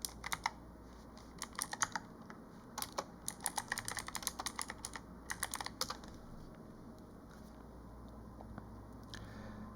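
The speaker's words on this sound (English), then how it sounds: "Let's do that by typing the following command." Quiet keyboard typing in uneven bursts of clicking keys, close by, trailing off into near silence over a faint background hum.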